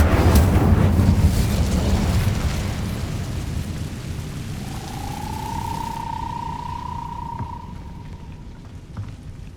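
Incendio fire spell in Hogwarts Legacy, a loud roaring rumble like an eruption, then a sustained whooshing burn that fades into a quieter hum with a thin tonal whistle.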